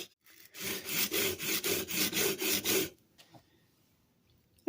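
A 1940s Sargent hand plane being sanded by hand with 150 grit sandpaper, about ten steady rhythmic back-and-forth rasping strokes, close and fairly loud, then the scraping stops and only quiet room noise remains.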